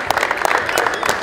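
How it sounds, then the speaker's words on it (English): People clapping in a gym at basketball tryouts in Las Vegas, a brisk stretch of close applause with speech over it. "Clap it up. Let's clap it up."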